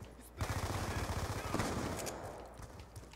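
Rapid automatic gunfire in the Call of Duty video game, a dense burst of close shots rattling for a couple of seconds and then trailing off into a few scattered pops, fairly quiet overall.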